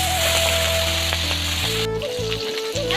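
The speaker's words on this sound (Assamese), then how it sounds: "মাছ ফ্ৰাই কৰি আছোঁ" Salt-and-turmeric-coated fish frying in hot oil on a home stove, a steady loud sizzle and crackle running throughout with no talking.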